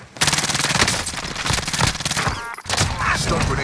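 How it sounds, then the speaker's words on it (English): Rapid automatic gunfire in a first-person shooter video game, loud bursts crackling almost continuously with a short break near the end, with faint voices underneath. "I'm under fire."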